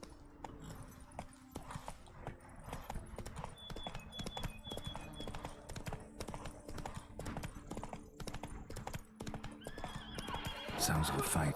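Horse hooves clip-clopping in a steady rhythm with repeated whinnies in the Witcher 3 video game, under a continuous bed of game ambience, building louder near the end.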